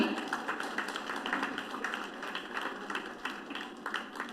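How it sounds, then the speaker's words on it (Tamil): An audience at an award ceremony during a social welfare association's golden jubilee celebration claps steadily, a dense patter of many hands heard at a moderate distance and continuing throughout without talk. "எல்லாரும் கை தட்டலாமே."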